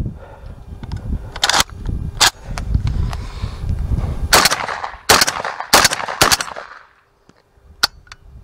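A JTS MK12 shotgun on gas setting one fires Monarch 1550 shells in a string of loud, sharp shots with uneven gaps, several close together, ending in a brief quiet stretch with a faint click.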